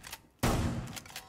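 A burst of gunfire in the video game Rainbow Six Siege: after a quiet lull a loud close shot or rapid volley erupts and tails off with echoing reports.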